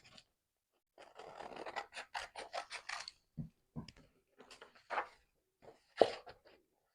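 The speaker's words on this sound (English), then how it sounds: "just cutting this out" Scissors cut through paper labels close up, a quick run of crisp snips followed by a few scattered cuts and one sharper closing snip.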